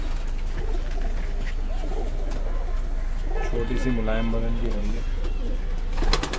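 Pigeons coo in a loft, soft rolling calls rising near the middle and repeating over a steady background, with someone talking throughout.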